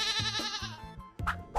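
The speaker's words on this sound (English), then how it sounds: "It's a goat." A goat on a farm bleats in a near, wavering call, followed by two shorter bleats, with no talking in between.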